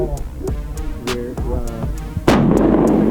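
Gunfire at an outdoor community shooting range: a series of sharp shots spaced roughly every half second, then one louder, closer blast that rings out and sustains to the end.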